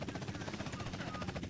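A helicopter in the video game GTA San Andreas throbs with steady, rapid rotor chopping and a dense roaring engine wash, loud and continuous throughout.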